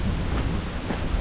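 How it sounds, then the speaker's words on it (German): Cold wind blows steadily across an exposed stretch of the Appalachian Trail in Shenandoah National Park, a broad, low rushing roar buffeting the microphone without a break. "Ey, der Wind ist echt sackrisch kalt."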